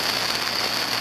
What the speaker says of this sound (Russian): А дождь шпарит